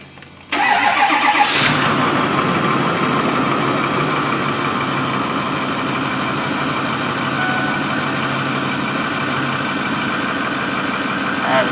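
A 2008 Ford F-250 diesel with glow plug problems cranks briefly and catches, then settles into a loud, steady idle that carries on close by with no talk.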